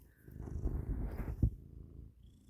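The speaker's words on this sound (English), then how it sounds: "If you're hearing something odd, that's my cat Poppy." A cat purrs softly up close, a low rumbling rhythm that swells and fades over a couple of seconds.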